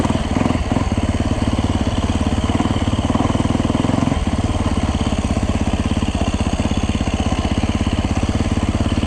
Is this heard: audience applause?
no